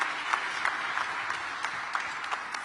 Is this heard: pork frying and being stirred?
no